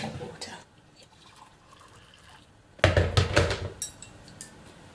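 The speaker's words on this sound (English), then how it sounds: "I'm going to pour in the matcha, and then I'm going to add some more boiling hot water." Hot water poured into a mug of matcha, with a soft trickle first and then a louder splashing pour and clinks of the mug, close by with no talking.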